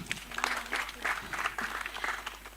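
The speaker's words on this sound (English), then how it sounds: "A round of applause for Costa." A conference audience gives a short round of applause for a speaker named Costa, steady clapping that holds at an even level throughout.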